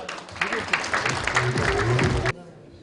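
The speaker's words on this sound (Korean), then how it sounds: "여러분들의 큰 박수로 모시겠습니다" Applause from the audience at a Korean horse industry association leadership inauguration ceremony, a steady round of clapping under some voices that cuts off abruptly near the end.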